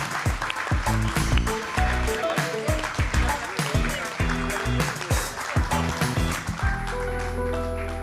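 Applause rises from the audience at an HEC Alumni general assembly award ceremony: steady clapping from many hands, mixed with tonal music and some voices, continuing until the clapping fades near the end.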